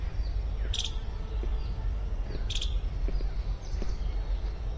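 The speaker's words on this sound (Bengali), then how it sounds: "এটা পাখি নয়, কাঠবেড়ালির ডাক।" A squirrel calling in Kulik forest, two short sharp chirps repeated a couple of seconds apart, faint over steady outdoor ambience.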